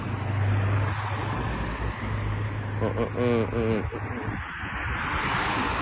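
Busy street traffic heard at a road crossing, a loud continuous roar of passing cars and engines with low droning hum, while a voice speaks briefly partway through.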